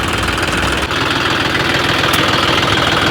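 A John Deere 5210 tractor, modified with a turbo for extra power, idles loudly and steadily up close. Its rumbling, knocking drone continues for a few seconds with a couple of brief clicks, and no one speaks.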